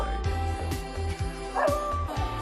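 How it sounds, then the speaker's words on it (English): A dog barks repeatedly in the background, mid-distance yips and bow-wows in an uneven rhythm, mixed under steady music or room sound during a podcast recording. "That's my dog barking"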